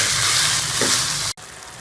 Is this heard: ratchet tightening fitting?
no